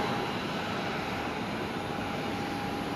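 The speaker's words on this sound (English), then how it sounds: "our next departure on screen, the Velocity 1228 service going to Canberra" A Velocity airliner departing Brisbane Airport at twilight, heard as a loud, continuous broadband jet roar that holds steady throughout without a break.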